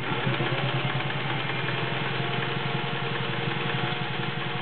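A vintage Singer 500A Rocketeer slant-o-matic sewing machine runs zigzag stitching, its motor humming steadily with a fast, even mechanical pulse, close and continuous without talk.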